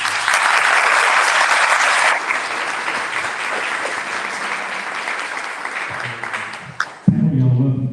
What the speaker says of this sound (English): give our panel a round of applause for this